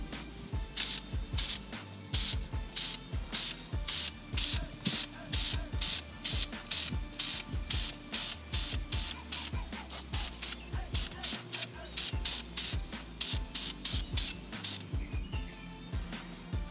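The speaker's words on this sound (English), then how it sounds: "why not go ahead and spray them black?" Aerosol spray paint laying black coats onto truck grills: a rapid series of short hissing bursts with brief gaps, close up and fairly loud, against faint background noise.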